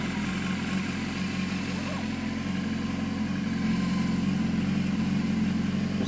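A 2015 BMW S1000RR motorcycle engine idles while warming up, a steady, even, close rumble throughout with no revving.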